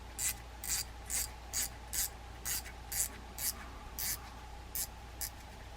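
Adjuster knob on a Shimano Sustain 3000FG spinning reel being tightened down, giving a regular series of about a dozen short, crisp rasping clicks, close up and alone.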